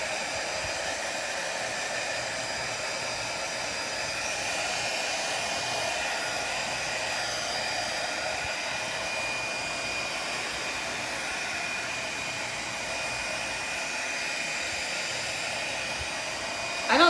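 A heat tool blows hot air onto craft rice paper with a steady, close whooshing roar that holds unbroken and even for the whole stretch.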